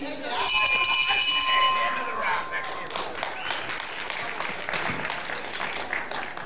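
A round-end bell rings out at a televised professional wrestling match, a bright metallic clang sustained for about two seconds over crowd applause, followed by continuous cheering and clapping while a commentator speaks.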